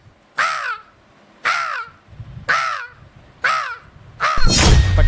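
A boy mimics a black crow with his voice: four harsh, descending caws, evenly spaced and close to the microphone, followed by a brief noisy rustle at the end.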